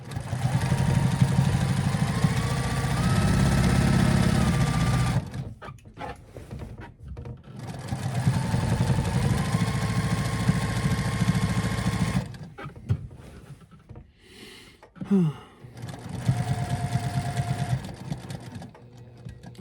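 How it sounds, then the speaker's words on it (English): A sewing machine stitches patchwork hoodie fabric in loud, steady motor bursts of about five seconds each, separated by short pauses and handling noises, with no talking. "just move my sewing machine"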